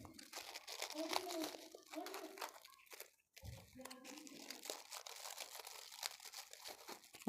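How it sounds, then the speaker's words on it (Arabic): A plastic bag crinkles and rustles in short bursts as it is fitted over a jar of pickled food being stored, loud and close, with brief pauses between handling sounds. "بقوم جايبه كيس وحطاه، وبعدين اقوم قافله البرطمان"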